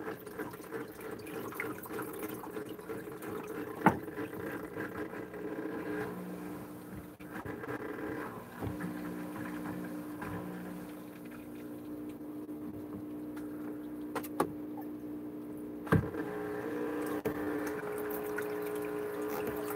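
A live aquarium filter keeps running in a tank holding a baby puffer fish, pumping water with a steady gurgling hum and a few brief clicks and knocks over it.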